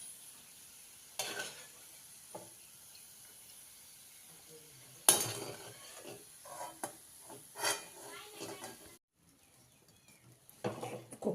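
Browned fried onions being scooped out of a pan into a dish after the gas is switched off, heard as faint residual sizzling with scattered scraping and clinks of a spoon against the pan, then a short near-silent gap.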